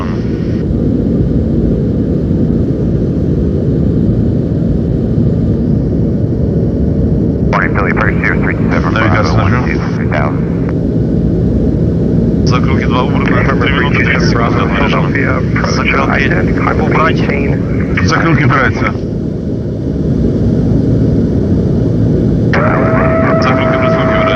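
Antonov An-124 Ruslan heavy transport jet in flight, heard as a steady, loud engine roar and rumble from inside the aircraft throughout, with crew voices talking over it.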